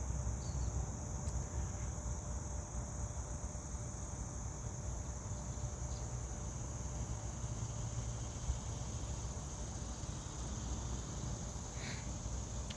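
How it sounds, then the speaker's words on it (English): Cicadas in a park, a faint continuous high-pitched buzzing drone that never lets up, spread evenly all around with no talk. "Listen to all these freaking cicadas everywhere."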